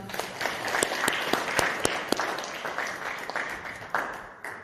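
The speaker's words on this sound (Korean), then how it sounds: "다시 한번 큰 박수 부탁드립니다." Audience applause at a regional circular-economy lecture in a hall in Gumi, a steady stretch of dense clapping with sharp individual claps standing out, fairly loud and heard alone.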